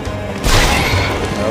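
A sudden crashing smash as enemies break through walls in the video game Men in Black Galaxy Defenders, a loud broadband burst that trails into rumbling debris and ongoing game noise.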